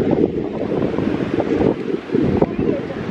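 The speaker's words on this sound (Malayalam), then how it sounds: "കാരണം കാറ്റുണ്ട്, നല്ല കാറ്റുണ്ട്." Strong wind gusting at Muzhappilangad beach, a loud continuous roar buffeting the microphone, with surf rumbling underneath and a voice speaking through it.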